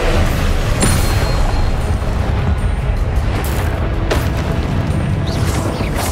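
Confringo fire spell blasts in Hogwarts Legacy, dense booming explosions with rumbling impacts layered over continuous loud game effects and music.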